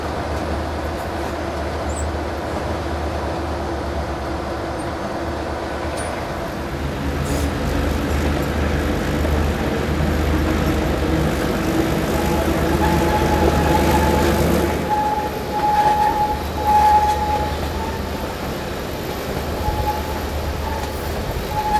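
White Pass & Yukon railroad train climbing steep grades from Skagway toward White Pass, a steady loud low rumble of engine and rolling wagons, swelling midway, with a brief squeal late on.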